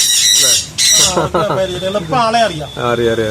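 Loud, harsh sun conure parrot squawks burst out repeatedly, shrill and close in a loft, with a person talking underneath between the calls.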